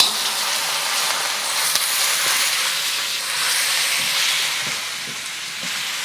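Chinese broccoli (gai lan) stir-frying in a hot wok for a beef dish gives a steady, bright sizzle and hiss with small crackles throughout, fairly close and loud, with no talking.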